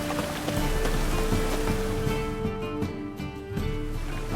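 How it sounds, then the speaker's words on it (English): Rain falls steadily in The Witcher 3, a close patter of drops on surfaces with scattered louder splashes and a low rumbling undertone, continuous throughout with no voices. "It's raining again."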